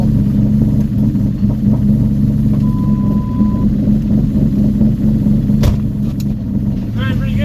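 A turbocharged Cobra engine with a 6R80 transmission, run on a Coyote computer, drones in a steady, loud, dense roar throughout, with a brief rise in pitch near the end as it pulls.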